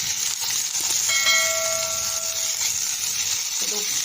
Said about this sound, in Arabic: نفضي الطاسه، هنحط الثوم نحمره